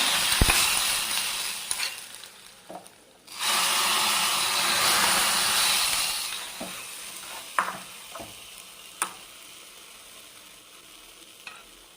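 A sudden burst of loud sizzling as hot tempering oil is poured into curry, fading over several seconds, followed by a few light clinks and taps.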